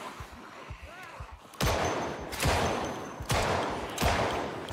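Gunshots in Project Zomboid, several loud sharp blasts spaced about a second apart, each with a trailing echo, following quieter rustling and talk.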